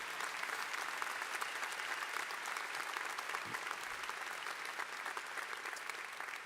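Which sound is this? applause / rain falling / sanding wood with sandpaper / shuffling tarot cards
applause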